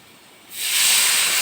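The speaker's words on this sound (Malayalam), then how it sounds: "അത് ഞാൻ ഇതിലേക്ക് ഒഴിച്ച് കൊടുക്കണേ" Tamarind soaked in boiled water is poured into a hot curry pan for a fish curry, setting off a sudden loud steaming hiss that swells after a quiet start and holds steady.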